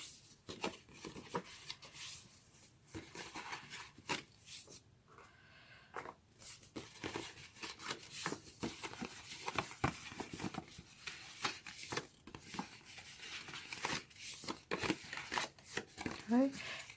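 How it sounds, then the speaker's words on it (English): Scored cardstock being folded along its score lines for a handmade gift box, soft crisp creases and rustles in irregular close bursts, fairly faint throughout. "Now I'm going to fold all those score lines."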